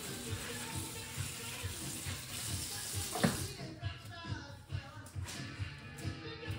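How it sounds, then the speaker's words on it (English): A Scrub Daddy sponge is rinsed under a running tap, a steady splashing water stream with uneven squeezing pulses, close and moderately loud, with no talk. "So just a quick rinse in the water after you're done."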